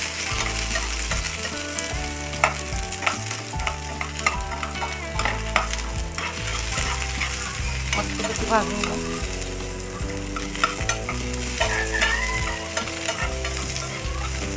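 Onion roasting in a pan while being stirred, sizzling and scraping sounds running under prominent rhythmic background music.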